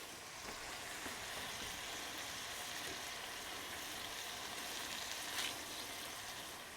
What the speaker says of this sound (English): All right, now we're going to add our onions in.